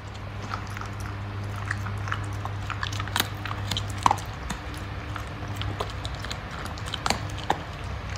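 Crunchy food, likely ramen-night snacks, being bitten and chewed close up in a quiet room, with irregular sharp crunches scattered over a low steady hum.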